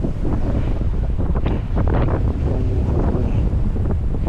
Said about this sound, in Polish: Na razie jest potężny wiatr.